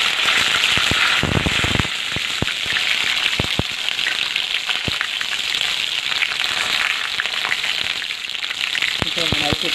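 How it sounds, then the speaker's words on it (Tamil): Curry leaves crackle and spit in hot oil in a pan while making Mumbai-style poha, a dense continuous sizzle broken by sharp pops and bursts, loud and close throughout. "இப்போ இந்த கருவேப்பிலை போட்டு"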